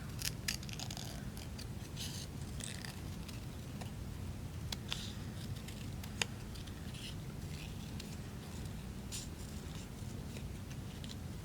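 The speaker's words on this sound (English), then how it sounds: "I'm going to use this darker color purple and cut a circle out." Scissors cut a circle from dark purple paper for a craft monster bookmark, giving faint, scattered snipping clicks over a steady low background hum with no speech.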